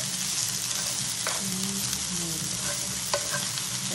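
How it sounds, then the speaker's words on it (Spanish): Chiles sizzling and browning in a hot pan for chicken stewed with jalapeños, with a constant close frying hiss and occasional stirring clicks. "Estoy dorando los chiles."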